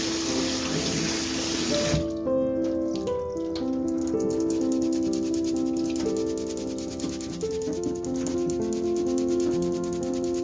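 Dried quinoa rinsed under a running kitchen tap, a steady close wash of water with faint rubbing and clinking against a strainer, continuous for about ten seconds with no talking.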